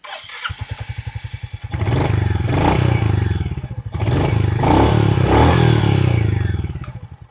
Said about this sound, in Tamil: நான் உங்களுக்காக எக்ஸாஸ்ட் சவுண்டு மட்டும் காமிச்சிடுறேன்.